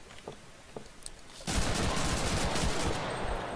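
Gunfire in the video game Cuisine Royale: quiet scattered clicks, then a sudden loud, sustained burst of rapid gunfire that keeps rattling without pause until the end.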